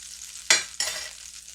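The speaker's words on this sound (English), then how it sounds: "So I'm going to stir that garlic around" Garlic sizzles in a frying pan as it is stirred, with two quick scraping bursts of louder hiss over a quiet steady fry.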